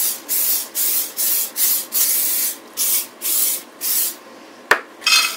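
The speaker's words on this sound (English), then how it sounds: "We're going to spray it with olive oil spray." Short rhythmic bursts of olive oil cooking spray hiss into a casserole dish in quick succession, about a dozen close pumps, followed by a sharp clatter and one more spray.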